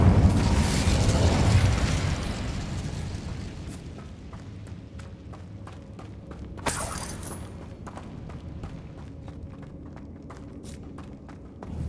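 Fire spell cast in the video game Hogwarts Legacy, a whooshing, rumbling burst that swells loudly at the start and then fades into crackling game ambience, with a sharp flare midway.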